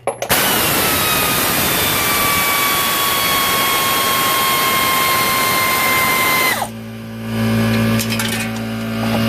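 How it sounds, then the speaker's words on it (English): A pneumatic air tool whines loudly and continuously for about six seconds while removing a brake bracket bolt on a Toyota Camry, then cuts off to a quieter garage hum, close and without talk. "And then now I got the pleasure of using an air tool."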